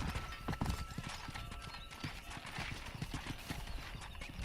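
Horse hooves clip-clop on the ground in the video game Red Dead Redemption during a horse-breaking and cattle-driving scene, a quick irregular patter of close hoof strikes continuing throughout, with a brief whinny and faint background sounds.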